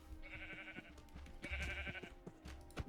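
Blocky Minecraft sheep bleat in a modded GregTech world, two long wavering baas in a row followed by softer bleats and clicks, close and fairly loud.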